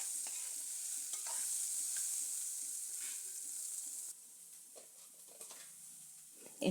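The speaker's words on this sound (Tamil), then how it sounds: "வெங்காயத்தையும் போட்டு பொன்னிறமாக வர்ற வரைக்கும் நம்ம ஃப்ரை பண்ணிக்கலாம்" Chopped onions frying in a pan until golden for a mutton intestine curry, a quiet steady sizzle with light stirring scrapes that drops noticeably softer partway through.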